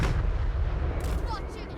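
Cannons booming during a Total War: Warhammer 3 battle, with heavy low blasts in a rough rolling sequence mixed with the distant din of combat.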